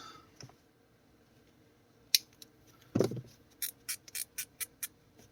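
Scissors trim a plastic tie strap in a quiet setting, with a sharp snip, a heavier cut, then a quick run of about six small clipping snips.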